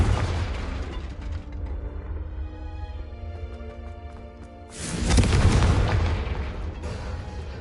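A Confringo blasting spell in Hogwarts Legacy explodes with a deep rumbling boom that fades into mechanical clatter, followed by a second loud, close blast with a long roaring tail.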